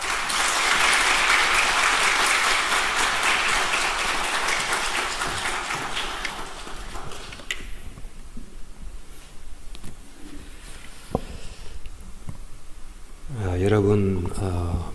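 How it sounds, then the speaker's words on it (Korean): A church congregation gives loud, sustained applause to welcome a pastor's entrance, filling the room for about seven seconds before fading into quieter hall sounds. A voice starts speaking near the end. "우리 목사님 나오실 때 우리 큰 박수로 맞이하면 좋겠습니다."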